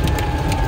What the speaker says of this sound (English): the rain started to feel like hail